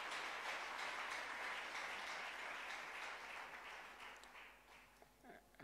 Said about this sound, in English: Let us clap our hands for these men.